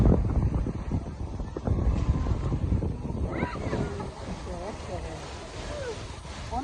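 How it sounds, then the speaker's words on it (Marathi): Sea waves roll in at Vasai beach, a broad rumbling wash with wind buffeting the microphone, strongest at first and then easing, while people talk and call out nearby. "पाण्याची लाट येऊ ना"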